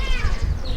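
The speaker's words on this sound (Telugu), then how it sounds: "పిల్లి అయితే అరుస్తుంది ఇక్కడ" A cat meows loudly and close by, its drawn-out wavering cries filling the short moment over low background rumble.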